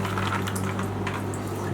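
A big pump draining water from a flooded basement after a pipe burst, a steady hum beneath a continuous bubbling, splashing wash of water, fairly loud and close, with no talk.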